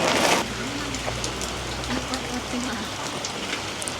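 Steady rain patters on surfaces outdoors, a dense soft hiss with scattered sharper drips, preceded by a brief louder burst of splashing at the start.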